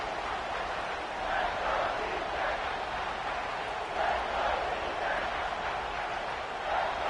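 A football stadium crowd of Husker fans roars loudly and continuously on third down, a dense far-off swell of noise that rises and falls slightly.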